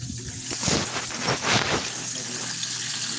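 Water gushes steadily from a tap, a broad hissing flow that runs throughout, with brief talk over it.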